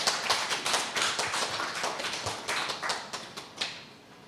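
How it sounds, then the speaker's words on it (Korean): Polite congratulatory applause from attendees at a dental academic seminar, a small group clapping in uneven rhythm that thins out toward the end, with no talk. "축하 박수 부탁드리겠습니다."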